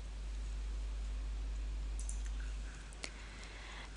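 Two faint, sharp computer mouse clicks, spaced about a second apart, come near the end over a steady low hiss while software is operated. No one speaks.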